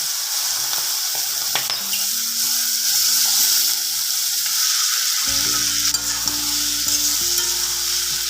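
Vegetables with turmeric frying in a pan, a steady close sizzle with occasional stirring scrapes, while faint tonal hums and background music play underneath.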